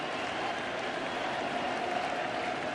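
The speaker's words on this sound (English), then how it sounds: "Crowd trying to help Fernando Rodney along to get this out." Baseball stadium crowd at World Series Game 3, Astros at Nationals, cheering and clapping in a dense, steady roar that holds at an even loudness throughout.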